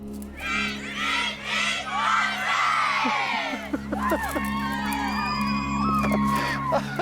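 A live crowd at an outdoor science stunt whoops, cheers and shouts, loud swelling bursts of voices followed by scattered yells and high whistles.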